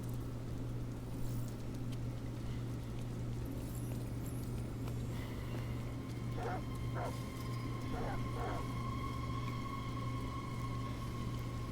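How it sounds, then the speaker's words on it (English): Dogs bark in the video game Detroit: Become Human, several sharp barks in pairs around the middle and end, moderately distant over a steady low drone and game ambience. "Goddamn dogs. What the fuck are they barking at?"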